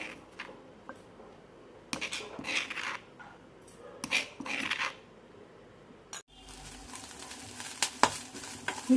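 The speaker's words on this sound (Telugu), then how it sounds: "ఇలా వేయించుకోవాలండి. కొంచెం స్విమ్లోనే పెట్టి వేయించుకోవాలి" Corn kernels frying in a pan for corn chaat, with scraping stirs and clinks against the pan, then a denser steady sizzle with scattered sharp pops.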